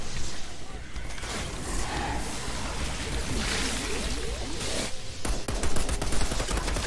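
Enemy gunfire in the video game Outriders, with rapid bursts of automatic shots and crackling fire running continuously and fairly loud, under a dense noisy game mix.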